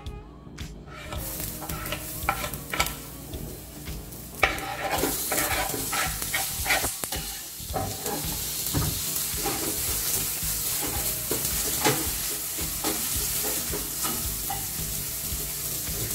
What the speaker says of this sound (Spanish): Rebanamos media cebolla y vamos agregando al sartén.